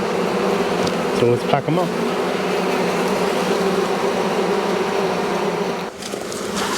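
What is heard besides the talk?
bees buzzing around an open hive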